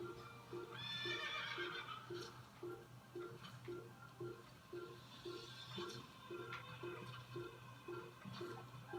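A horse in the game Assassin's Creed neighs loudly early on and again later, over a steady, rhythmic clip-clop of hooves and a low constant hum.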